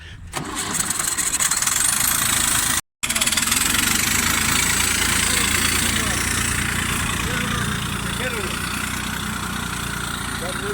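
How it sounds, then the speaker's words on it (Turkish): A turbocharged Massey Ferguson 135 tractor engine runs steadily and loud throughout, a continuous mid-range drone with a brief cut near the start, while people talk over it. "Bak biraz önceki traktörün gitmesiyle şimdiki gitmesinin arasındaki farkı görelim."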